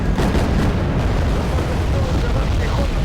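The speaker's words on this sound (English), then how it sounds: "Oh, are they dropping bombs?" Bombs exploding in the Wargame: Red Dragon video game, heavy guided bombs dropped by aircraft, heard as a dense, continuous roar of booming blasts that blend into one another at high volume.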